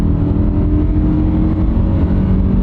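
A used Honda SUV is floored at highway speed, its engine giving a loud, steady, close-up drone with road rumble as it pulls hard at full throttle.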